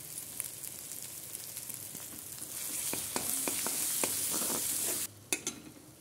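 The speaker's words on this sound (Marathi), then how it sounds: "आता हे तेल सुटेपर्यंत फ्राय करूया" Masala with chilli powder frying in oil for malai kofta curry, a close, steady sizzle with scattered stirring clicks and scrapes, the hiss swelling midway and then dropping away before a few last spatula taps.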